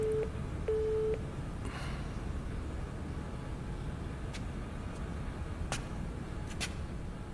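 Two short electronic telephone tones beep while a call is placed, then give way to a steady low hum of distant road traffic with faint clicks.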